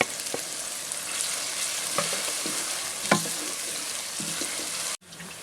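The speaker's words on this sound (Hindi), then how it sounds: "इत्थों प्याज कर लेना फ्राई" Onions fry loudly in a pan for chicken paya, a dense continuous sizzle with scattered crackles and stirring knocks, cutting off abruptly near the end; no one speaks.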